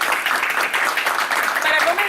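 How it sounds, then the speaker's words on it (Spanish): Audience clapping at a health-month round-table event, a loud burst of dense applause filling the moment, with voices mixed in underneath. "Un aplauso para ustedes porque así se hace."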